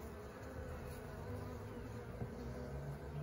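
Many honeybees around a hive hum in a dense, continuous buzz, close and steady, with no voices over it.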